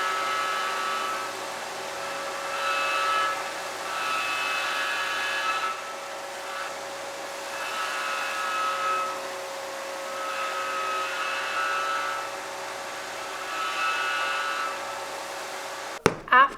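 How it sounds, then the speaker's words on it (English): A tabletop belt sander whirs steadily as leather sandal soles are pressed against it, with repeated louder gritty sanding passes every couple of seconds over the motor hum, no talk. "you'll definitely need either cobbler's help or your own tabletop belt sander."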